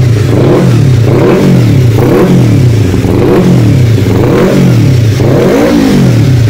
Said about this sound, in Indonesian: Oke, mesinnya udah nyala ya.